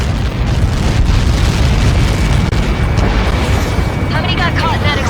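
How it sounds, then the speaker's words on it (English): A massive explosion in the air-combat video game Ace Combat 7 roars on as a continuous loud, dense rumble and blast noise, with radio chatter faintly mixed in near the end. "How many got caught in that explosion?"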